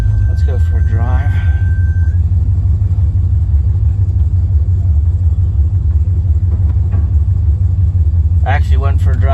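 A 1977 Chevrolet Corvette with a new power steering pump, driving with a steady loud low engine rumble throughout, and a person talking briefly near the start and end.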